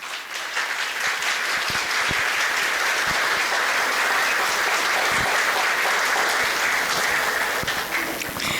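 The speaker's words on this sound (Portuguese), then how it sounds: "eu gostaria que vocês dessem uma salva de palmas para esse homem maravilhoso" Steady, dense applause from a large audience at a spiritist community celebration, a continuous wash of many hands clapping at even loudness throughout, with no talking over it.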